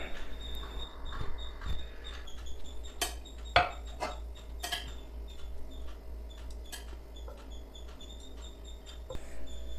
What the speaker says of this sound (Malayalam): ചോറിലുള്ള ചിക്കൻ പീസുകൾ ആദ്യം നമുക്ക് കോരി മാറ്റാം.